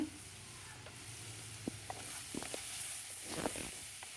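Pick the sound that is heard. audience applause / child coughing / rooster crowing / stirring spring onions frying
stirring spring onions frying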